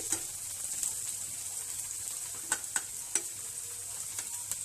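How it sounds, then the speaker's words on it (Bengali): Onions frying in a pan for a Bengali pointed gourd (potol) dish give a constant soft sizzle, punctuated by several sharp spatula scrapes and taps clustered toward the end. "পেঁয়াজগুলো ভাজা ভাজা হয়ে আসছে"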